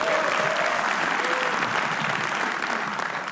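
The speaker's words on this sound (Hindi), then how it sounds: "सोलंकी के लिए तालियां बजा दो आप लोग।" An audience at a comedy roast show applauds for comedian Solanki, a dense, sustained wash of clapping from many people that holds steady and then thins slightly toward the end.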